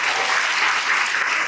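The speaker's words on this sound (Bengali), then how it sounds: "তাহলে সবার কাছ থেকে একটা হাততালি শুনি।" An audience at the Knowledge Carnival-24 event bursts into applause, a loud, dense crowd of clapping hands filling the hall evenly for a second and a half, with no voices on top.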